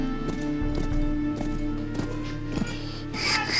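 Black horse trotting in the video game Call of Juarez Bound in Blood, with a regular clip-clop of hooves over steady music and ambience, loud and close.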